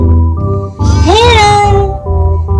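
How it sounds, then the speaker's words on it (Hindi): A cat gives a single loud, close meow with a rising then falling pitch, set against a steady tonal background. "अरे ये तो केट है।"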